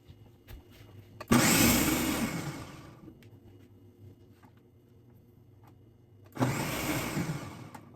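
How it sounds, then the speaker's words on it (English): A kitchen blender blitzes ginger with a little water in two loud bursts, a first whirring run of about two seconds, a pause, then a second short run. "you're going to blend your ginger"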